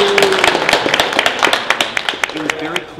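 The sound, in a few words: audience applause at community outreach meeting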